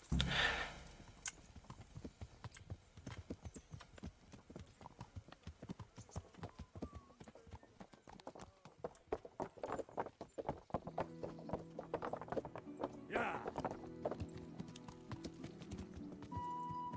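Horse hooves clip-clop steadily at a walking pace in the video game Kingdom Come: Deliverance, a continuous close rhythm lasting the whole stretch, with sustained musical tones joining in toward the end.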